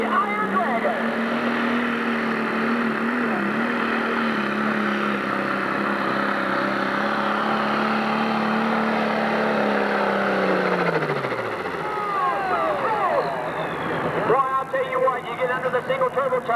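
John Deere 4430 pro stock pulling tractor with a single turbocharger, Iron Dragon at a 10,000 lb pull in Urbana, Ohio, roaring loud and sustained, pitch wavering then dropping away near the end before a clattering rise.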